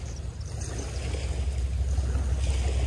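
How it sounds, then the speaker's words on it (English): Waves washing onto the beach at Port Phillip Bay at sunrise, a steady low rumbling wash with wind noise on the microphone, continuous and fairly close, with no voices. "The sound of the waves."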